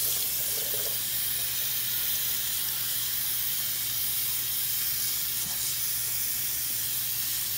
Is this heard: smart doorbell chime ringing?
no